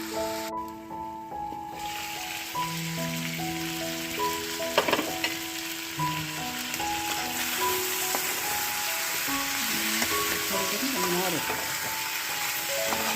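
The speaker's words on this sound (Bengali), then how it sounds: "দেখো কষানো চলছে আরও একটু কষাবো" Chicken sautéing with spices in oil, a steady close sizzle with occasional stirring scrapes throughout, alongside a continuous background melody and no talking.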